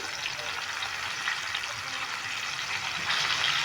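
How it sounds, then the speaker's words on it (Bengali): Grape peels fry in hot oil over medium heat, giving a steady, close hiss and crackle of sizzling that holds evenly and swells slightly near the end, with no talking. "এই যে আঙুরের থকা এটা আমি এর মধ্যে ভেজে নেব দিয়ে দিলাম তেলে"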